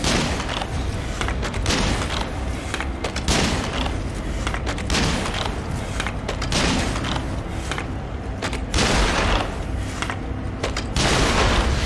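Gunfire in the samurai action game Nioh comes as several sharp, booming reports at irregular intervals over a dense, noisy battle din, loud and close throughout.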